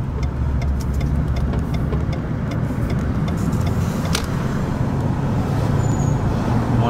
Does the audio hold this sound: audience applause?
no